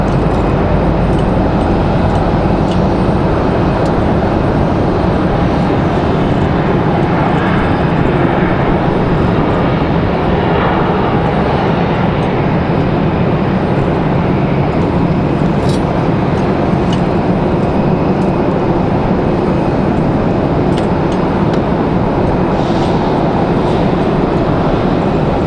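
A Delta Airbus A220 jet departing Raleigh-Durham for LaGuardia thunders close by, its loud, continuous engine roar holding steady at full strength with no voices over it.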